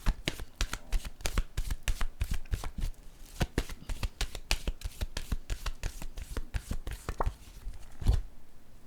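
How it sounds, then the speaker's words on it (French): Playing cards are shuffled and drawn at close range, a rapid run of crisp riffling flicks and snaps in an uneven rhythm that continues for several seconds, with no talking. "Attendez, je vais piger une autre carte ici."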